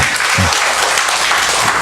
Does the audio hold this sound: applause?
yes